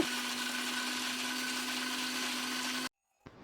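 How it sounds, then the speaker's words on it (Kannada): A kitchen mixer grinder grinds roasted vermicelli dry, with no water added, making a steady close whirring hum that runs continuously, then cuts off abruptly and gives a brief clunk. "ಮೊದಲು ನೀರು ಹಾಕ್ದಿರೇ ಒಂದು ರೌಂಡು ಮಿಕ್ಸಿನಲ್ಲಿ ರುಬ್ಕೋಬೇಕು"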